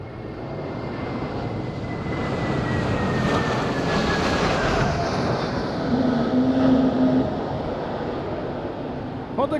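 An airliner on approach to Madeira airport in strong wind, heard as a broad, building jet roar with a faint descending whine, loud and close-sounding, mixed with gusting wind noise and no speech.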